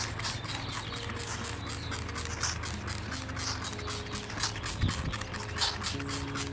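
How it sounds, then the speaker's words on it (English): Repeated quick spritzes of bleach from a spray bottle onto a wet shirt, a rhythmic series of short hissing bursts over a low background hum, close by. "you're just gonna spray over your wet shirt"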